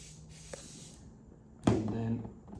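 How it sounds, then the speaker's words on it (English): A short, close hissing burst of glue spray onto model railway scenery rises abruptly and fades after under a second, against quiet room tone. "So we spray that on there like that."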